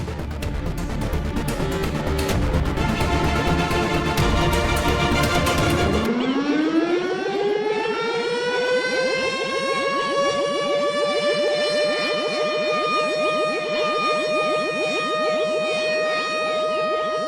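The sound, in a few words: warning siren in TV show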